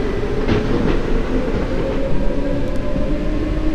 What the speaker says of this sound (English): And that is how you kill a monster. With a train.